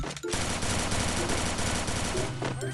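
Rapid, sustained automatic gunfire from the Free Fire battle royale game, loud and dense, a continuous stream of shots lasting nearly the whole stretch with no talk over it.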